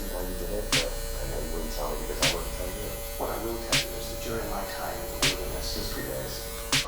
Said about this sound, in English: I'm just using the corner of my clipper, taking my time, really trying to buff out these darker areas